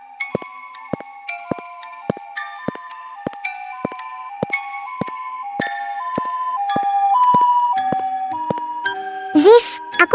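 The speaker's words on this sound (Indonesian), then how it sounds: "Ziv, suara ambulans itu ada lagi." An ambulance siren in an animated ghost drama plays as a rapid series of bright, repeating electronic tones in stepped pitches, fairly loud, before a voice cuts in briefly at the end.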